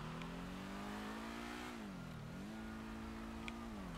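A car engine in a video game holds a steady mid-pitched drone, rising slightly, dipping and recovering as it revs, continuous and fairly loud with no talk over it.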